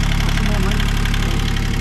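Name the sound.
sailboat engine running, belt turning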